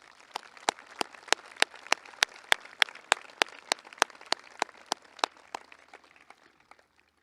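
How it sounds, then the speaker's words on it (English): Audience at a high school graduation ceremony claps in sharp, evenly spaced bursts that gradually thin out and fade over several seconds. "I think we should give them all a big, big round of applause"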